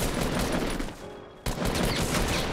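A shotgun blast in a multiplayer shooter game lands amid dense, continuous gunfire, with a brief lull before a sharp, loud shot cuts back in.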